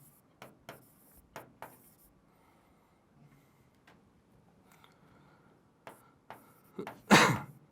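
Marker or chalk writing on a board during a Class 10 maths lesson: a series of short, faint scratchy strokes in irregular bursts, ending with a louder rubbing swipe, with no talk over it.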